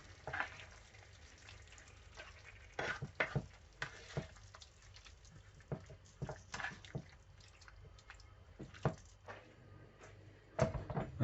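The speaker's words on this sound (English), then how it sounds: "all we're doing is just stirring them in nicely" Chicken jalfrezi stirred in a pan with the burners switched off, quiet frying sizzle under irregular scrapes and clacks of a spoon against the pan, close and faint, no speech.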